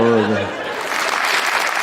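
Audience applause breaking out at a comedy performance, a broad steady wash of clapping that rises after a voice fades and continues loud to the end.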